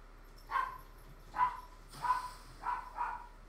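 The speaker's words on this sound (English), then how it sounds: "There goes my dog." A dog barks five times in an uneven series, sharp mid-pitched woofs standing out over a quiet room hum, close and fairly loud with no talking.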